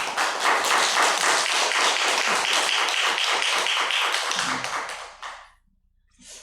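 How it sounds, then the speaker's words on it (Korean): Church congregation applauds together in a dense burst of claps, loud and close, holding steady for about five seconds before tapering off into near silence. "힘내라고 박수 한번 쳐주세요"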